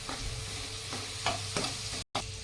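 Spices sauté in a pan with two spoons of water added to keep them from burning, a dense, close hiss with repeated scraping strokes of a spoon and one brief drop-out near the end.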